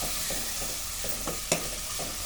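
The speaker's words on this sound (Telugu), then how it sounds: "టమాటా చిన్న చిన్న ముక్కలు కట్ చేసుకొని వేసుకోవాలి" Chopped tomato pieces go into a hot pan for a murrel fish tamarind curry, giving a steady sizzle with a sharp clink or splash near the middle. No one speaks.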